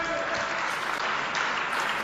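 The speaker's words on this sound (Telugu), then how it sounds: "ఒకసారి గట్టిగా చప్పట్లు కొట్టండి" A church congregation at a Holy Week service claps loudly and steadily, a dense, sustained wash of applause filling the room with no pause.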